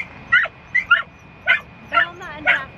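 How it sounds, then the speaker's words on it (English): Young rescue puppies yip and whimper in short high-pitched bursts, about five or six cries in quick succession, close and loud, with a voice talking underneath. "I'm not sure if you can hear us over these puppies"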